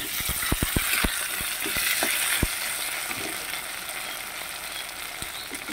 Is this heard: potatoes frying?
yes